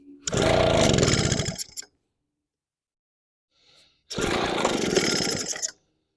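Echo PB413H backpack leaf blower with a starting fault, its two-stroke engine catching in two loud bursts of roughly a second and a half each, separated by a silent gap with a faint sputter.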